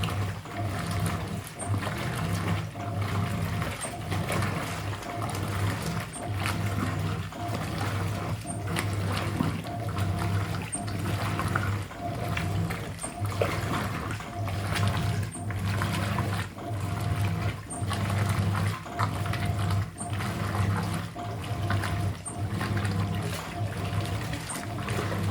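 Water pours steadily into a Hoover 800RL washing machine, giving a continuous close rushing and trickling sound over a low, steady machine hum, with no talk.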